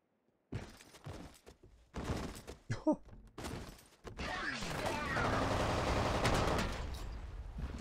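Sniper rifle gunfire in the horror shooter F.E.A.R., loud close shots with heavy impacts and crashes in rapid bursts, building into a sustained barrage of combat noise.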